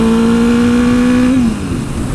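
A motorcycle engine revs loud and close, holding a steady high pitch before dropping off as the throttle eases.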